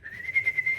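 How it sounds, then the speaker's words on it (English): A thin, steady high-pitched whistle from breathing through the left nostril after septorhinoplasty, pulsing slightly in strength over a brief moment, close and quiet. "earlier my nose was whistling"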